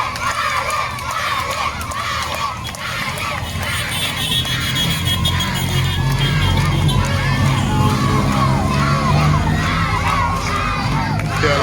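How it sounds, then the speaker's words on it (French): Crowds of children shout and cheer along the roadside on a climb during a cycling race, a loud, continuous, excited roar with high voices and clapping mixed through it. "avec les applaudissements des enfants"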